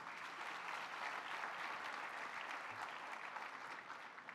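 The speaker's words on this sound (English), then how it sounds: "Please give her a big round of applause." A conference audience applauds continuously, a dense even wash of many hands clapping at a steady moderate level throughout, heard somewhat distant in a large hall with no voices.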